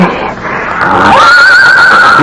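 A horse whinnies loudly and close as a radio drama sound effect for a blue roan stallion, one long rising and falling neigh standing alone with no talk.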